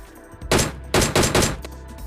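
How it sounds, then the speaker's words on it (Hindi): A DP machine gun fires in PUBG Mobile, four short sharp bursts in quick succession, loud and close, with no talking. "अब मैंने उसको डिप्पी से कुछ 2-4 हेडशॉट दिए मगर वो नॉक नहीं हुआ"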